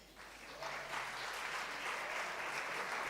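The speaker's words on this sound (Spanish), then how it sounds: "le vamos a dar un aplauso con un poco más de" Audience applause at a panel event, a steady wash of many hands clapping that rises within the first moments and holds evenly, moderately distant, with no voices over it.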